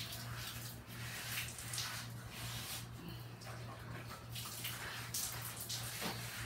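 Water from a tap runs steadily into a sink while a cleaning rag is wetted for fireplace scrubbing, a faint continuous splash with a low hum under it.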